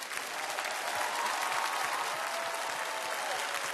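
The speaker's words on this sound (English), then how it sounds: "clap your hands like you've never clapped your hands in your life unto our God" A large crowd at a political rally in downtown Fort Wayne, Indiana, claps in steady, dense applause that holds evenly throughout, loud and continuous without any break.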